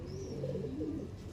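Pigeons coo in low, soft, repeated calls, close and steady through the whole stretch, from early-maturing NPL-breed birds, with no voices.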